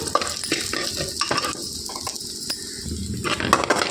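Finely chopped dry coconut frying in a pan, a close crackling sizzle with repeated scraping and tapping of a stirring spoon.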